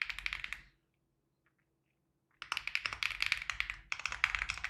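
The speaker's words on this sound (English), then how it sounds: "When I type on my keyboard, like when I'm typing the alert" Rapid clattering keystrokes on a computer keyboard during a live futures-trading session, close and crisp, in two bursts separated by a couple of seconds of silence, with no talking.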